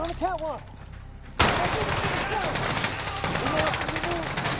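Rifle fire from an AUG in the video game Call of Duty: Modern Warfare, a sudden sustained burst of rapid gunfire layered with in-game effects, loud and close, following a voice talking briefly at the start.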